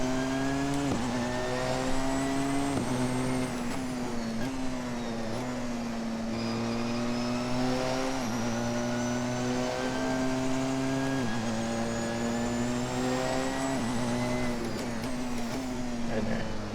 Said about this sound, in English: You'll definitely notice that the car accelerates much faster.